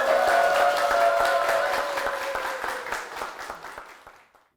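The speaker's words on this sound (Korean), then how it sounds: "큰 박수로 앞으로 모시도록 하겠습니다." A church congregation breaks into warm applause as an elder is invited forward, dense clapping that starts full and then thins into scattered individual claps before fading out.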